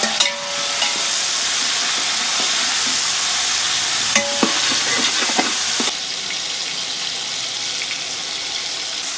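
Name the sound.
frying onion, green chilli, ginger garlic paste and tomato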